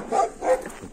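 A dog on a rural homestead gives two short, close barks in quick succession, then a faint whimper, with no talk over it.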